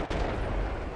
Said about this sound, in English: There's some mortars hitting me again.